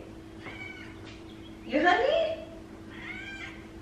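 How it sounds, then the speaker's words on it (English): A cat meows several times close by, with a louder, rising cry in the middle and softer calls before and after, while a person speaks briefly. "I hear a cat."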